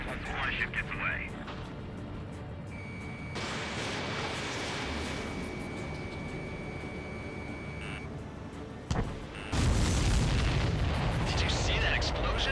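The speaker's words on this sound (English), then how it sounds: "Did you see that explosion?" Supply ship blowing up in the combat flight game Ace Combat 7, a sudden heavy burst of rumbling blast that swells over a steady roar of jet engine and battle noise.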